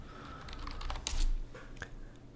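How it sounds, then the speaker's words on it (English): Fingers tap on a computer keyboard in a quiet room, a short burst of light clicking keystrokes close by with a slightly louder thump midway. "It's as simple as just typing Python in the search"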